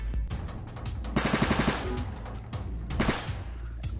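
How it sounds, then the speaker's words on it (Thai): An MP5 submachine gun fires in Roblox Oil Warfare Tycoon in quick rapid bursts, loud and close, with short gaps between volleys. "มันออกมาแล้วเราทดสอบปืนเราเลย"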